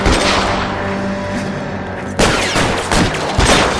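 Gunfire in a shootout from the video game L.A. Noire: loud bursts of rapid shots ring out, a sustained volley followed by several sharp cracking bursts, close and intense.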